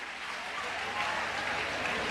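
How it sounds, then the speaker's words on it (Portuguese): An audience claps in steady, dense applause filling a hall during a humorous sermon, sustained throughout without a break. "E tu aplaudiu?"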